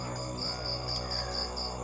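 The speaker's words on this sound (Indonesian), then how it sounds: "Cuma ada suara gemercik air dari kolam ikan dan suara jangkrik yang menemani gua." Crickets chirp at night beside a fish pond, a steady pulsing trill repeating in regular bursts over a constant low background hum, moderately close and with no voices.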